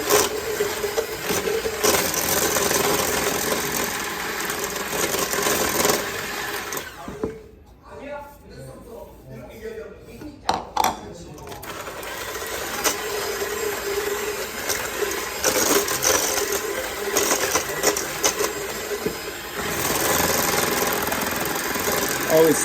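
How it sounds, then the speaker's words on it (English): An electric hand mixer beats eggs and sugar in a tilted bowl for butter pecan ice cream, giving a steady close whir that drops out for a few seconds midway and then resumes. "You don't have to move the mixer around as much."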